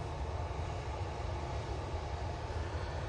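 An aircraft auxiliary power unit runs at Manchester Airport, a steady broadband roar with a low rumbling drone, continuous and fairly close with no voices.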